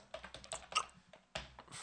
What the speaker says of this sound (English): so I'm gonna have to type it in